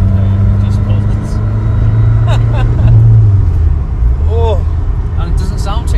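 A 1989 VW Mk1 Caddy with very wide tyres pulls in fourth gear, its engine droning low and steady inside the cabin with a rising note, while voices speak briefly over the rumble.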